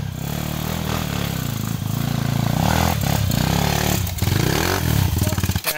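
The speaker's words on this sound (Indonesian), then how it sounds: "ya motor ini" Motorcycle engine ridden hard along a new rough dirt trail on the Lembang Fault, Indonesia, loud and close throughout with rising revs, throttle surges and rattling clatter from the bike over uneven ground.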